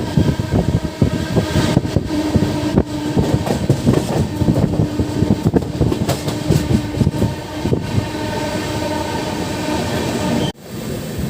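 The Vikramasimhapuri intercity train runs between Nellore and Vijayawada, a loud continuous rumble of wheels on rails with rhythmic clatter heard from inside the carriage, dipping briefly near the end.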